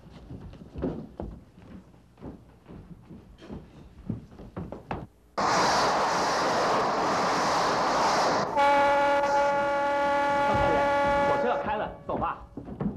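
A train arrives at a station with a rushing, rumbling approach followed by a sustained horn blast, loud and close, after a stretch of clattering and knocking with voices around.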